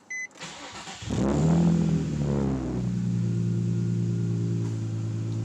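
A Nissan 350Z starts up close by: a short starter crank, then the engine catches with a quick rev before settling into a steady, even idle.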